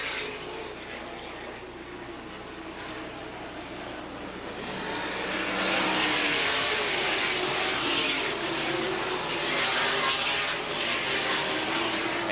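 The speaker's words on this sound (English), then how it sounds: "Vic Lemke definitely has his eye on Ron Mullen's 4X car" Sprint race cars roar around the Eldora dirt track at the 1985 USAC Four Crown Nationals, a steady, dense engine drone that swells louder midway as the pack passes, heard from a distance with no talking.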